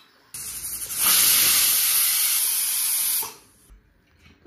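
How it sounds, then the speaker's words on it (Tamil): A pressure cooker whistle releases a sharp, loud hiss of escaping steam while cooking chicken, holding steadily for about two seconds, then stopping abruptly, leaving near silence. "Cooker whistle அடங்கிடுச்சு."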